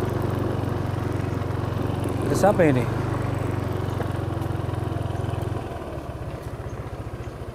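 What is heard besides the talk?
motorcycle engine idling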